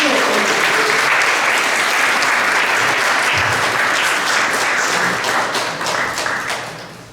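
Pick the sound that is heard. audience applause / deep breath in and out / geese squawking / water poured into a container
audience applause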